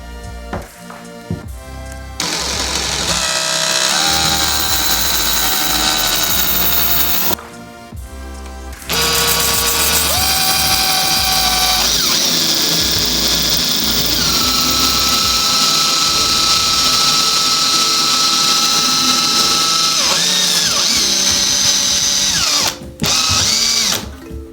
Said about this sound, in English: now I'm going to be using this carbide tip bit you buy at Home Depot